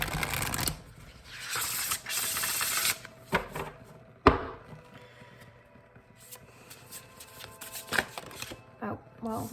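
Tarot cards being shuffled by hand give off quiet riffling bursts and sharp taps, irregular and close, with stretches of near silence between them.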